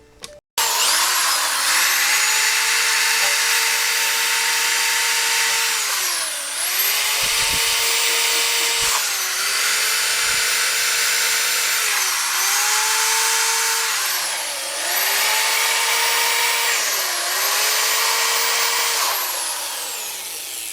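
A high-pitched rotary tool grinds rough casting marks off a Yamaha FZ600 wheel, a loud steady whine that dips and rises in pitch as the bit bears into the metal and eases off, running almost without break.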